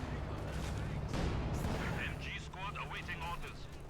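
Machine gun fire and battle noise from Company of Heroes 2, a World War II strategy game: a dense rumble of artillery and gunfire with sharp bursts and crackles, played under a commentator's talk.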